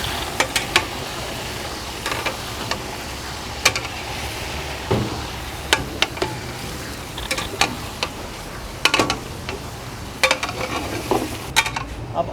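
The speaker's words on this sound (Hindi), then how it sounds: "अब इसमें हम शामिल करेंगे गोश्त। अभी ये गोश्त की भुनाई करेंगे हम तकरीबन" Meat browns in a pot for nihari, with a low sizzle under frequent sharp clanks and scrapes of a ladle against metal at an irregular rhythm, close by and without speech.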